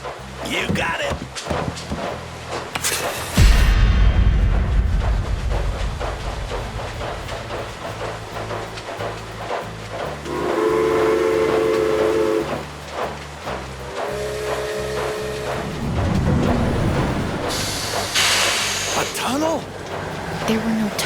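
Steam locomotive in Hard West 2 hissing and chugging loudly, with tonal whistle-like blasts midway, amid dialogue and a rising rush of noise near the end; people talk throughout.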